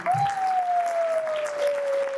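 An audience at an award function applauding three brothers, steady dense clapping over a sustained high electronic tone, like microphone feedback, running across the whole stretch.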